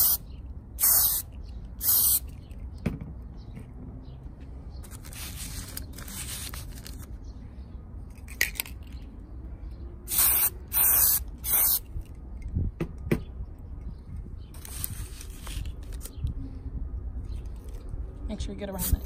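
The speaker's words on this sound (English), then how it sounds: "I'm gonna spray it just a little bit with the silver glitter blast to give it a little bit of extra pop" An aerosol can of silver glitter spray paint hisses in several short bursts onto a wine glass, with quiet handling noises and talk in between.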